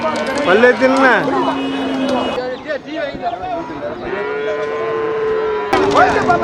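Cattle low repeatedly at the Melapalayam cattle market, with several long, loud moos from nearby animals over the bustle of the market and people talking.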